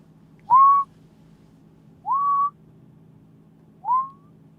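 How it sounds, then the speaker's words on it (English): A person whistles three short rising notes over a video call, each cut off abruptly after a fraction of a second, spaced evenly against a faint low hum. "Zoom is doing that thing where I can hear the beginning of the whistle, but then it cuts out"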